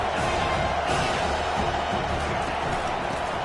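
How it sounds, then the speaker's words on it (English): A college football stadium crowd roars steadily as the defense pressures the quarterback, a dense, sustained wall of cheering and noise filling the whole stretch with no break. "Listen to this crowd just shaking the girders of this place"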